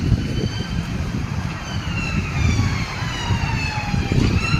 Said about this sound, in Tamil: இதோ ஒரு ஆம்புலன்ஸ் வருது